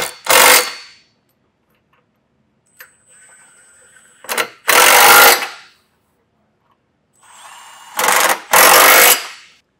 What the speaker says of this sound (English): Now we're going to take a 19mm socket and snug these up.